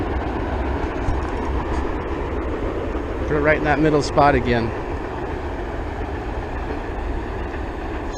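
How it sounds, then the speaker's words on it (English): A passing train makes a steady, broad rumble near a fishing spot by the water, continuous throughout while someone speaks briefly over it. "Another train's coming."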